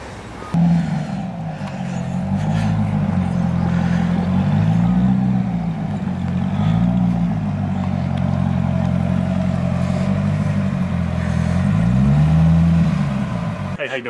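A car pulls in nearby, its engine a low, steady rumble that swells and eases as it arrives, while people talk over it.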